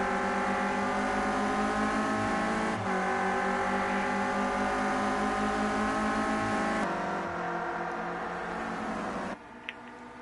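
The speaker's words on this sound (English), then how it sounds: "You can hear the engines of NXTGEN and Jamie FL30 just below" Renault Clio Cup race car engines at the Brands Hatch GP circuit, loud sustained high-pitched engine drone with shifting revs and gear changes, close and continuous, with no talk over it.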